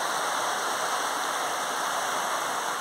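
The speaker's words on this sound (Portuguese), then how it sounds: "a água parece estar com ainda mais força" Floodwater rushes strongly down a staircase after heavy summer rain in Belo Horizonte, a steady, loud, broadband torrent with no pauses.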